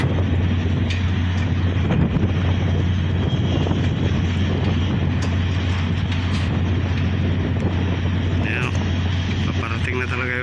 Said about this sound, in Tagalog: Pag nag-sandstorm po dito lang napakalakas.